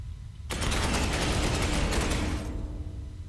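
Gunfire in the Space Hulk Ascension video game, a sudden loud burst of rapid automatic shots lasting about two seconds, then a fading mechanical tail.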